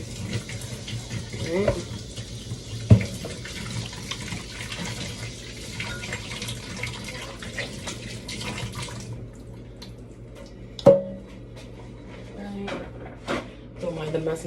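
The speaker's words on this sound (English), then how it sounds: "I'm going to wash my hands." Tap water runs steadily into a kitchen sink during handwashing, a soft continuous hiss under a person's speech, stopping partway through, followed by a few sharp clunks and knocks.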